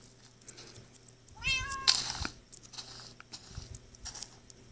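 Cat meowing in the Minecraft Pocket Edition 0.12.1 game, one short rising meow followed by soft clicks and faint game sounds, moderately quiet.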